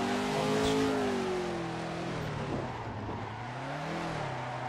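A BMW E36 drifting around a track in Assetto Corsa VR, its engine holding a loud, continuous drone that rises and falls with throttle and gear changes, with a brief tire-scrub texture mid-lap.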